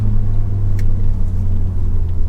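Low, steady rumble of a car's exhaust cruising smoothly in comfort mode with the exhaust valve off, subdued and constant without revving, heard from inside or close by.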